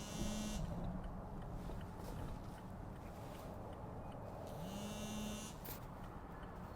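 Two short electronic tones sound a few seconds apart over a low rumbling street background in Oakland, California, each a brief steady pitch that dips slightly.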